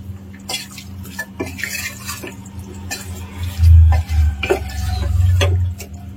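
Mutton with masala and curd being stirred in a pot for kulambu, with a steady run of spoon and utensil scrapes and clinks against the pan, close and fairly loud, over a low background hum.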